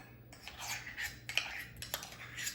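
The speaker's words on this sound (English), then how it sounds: "I'm going to put this into a small saucepan here." Quarter cup of jam scooped into a small saucepan in a kitchen, with light clinks and scrapes of a spoon against metal, faint and close.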